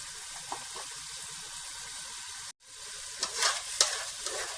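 Peas frying with gravy and freshly added yogurt in a pan give a steady, close sizzle, broken by a brief silent cut and then scraping stirring strokes that add sharper hiss.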